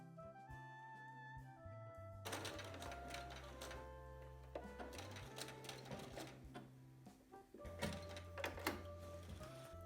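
Sewing machine stitching a fabric travel pouch 2 mm from the edge, a steady mechanical whir running in bursts that start, pause and restart, close and fairly loud with no talk.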